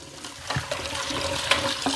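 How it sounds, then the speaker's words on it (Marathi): Water sloshes and splashes in a basin as leafy greens are rinsed of muddy soil, with small gurgles and a steady wet rushing, close by. "2-3 पाण्याने अशी धुवून घ्यायची आता आपल्याला"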